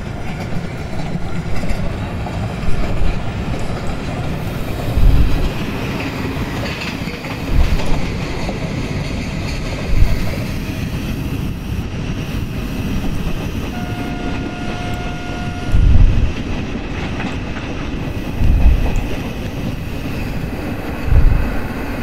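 A train rumbling along rails in the Open Rails / MSTS simulator, the 19033 Gujarat Queen running at around 70 km/h, with a continuous loud roll, periodic clickety-clack of wheels over rail joints and a brief tonal squeal midway.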